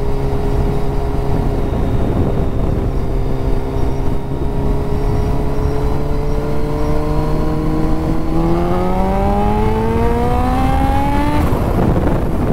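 A Yamaha FZ1 motorcycle accelerates hard in a speed test, its engine note climbing steadily through the gears with a shift near the end, loud and close over road and wind noise.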